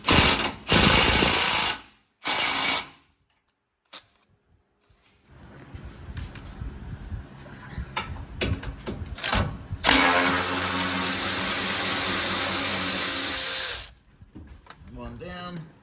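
A power tool works on the 12mm bolts holding the steering gear behind the dust shield of a Subaru Sambar, with several loud close bursts of whirring and ratcheting separated by quiet gaps, then a longer run.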